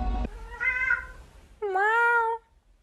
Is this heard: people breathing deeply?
no